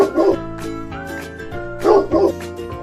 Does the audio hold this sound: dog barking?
yes